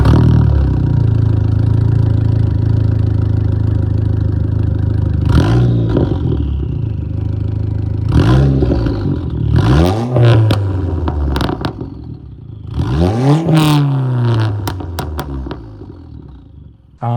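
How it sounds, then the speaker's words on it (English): Dodge SRT-4 engine revved while parked, a low steady idle broken by three or four sharp throttle blips that rise in pitch and fall back, close and loud, with no talking. "I'm actually gonna give you guys a couple of revs first."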